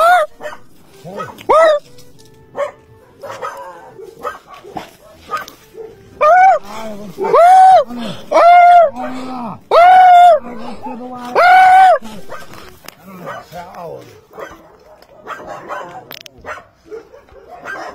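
A person imitates barking dogs to drive off visitors at a house door, a loud series of rhythmic yelping barks rising to a sustained burst, with scattered voices around it.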